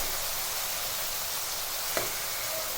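Oil-coated brinjal frying on a medium flame for vangi bath: a soft, even hiss of sizzling oil throughout, with a single faint scrape of a spatula partway through and no voices.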